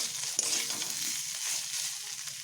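Spices and potatoes frying in a pan give a steady, fairly soft sizzle with a brief clack near the start, continuous and close with no talk.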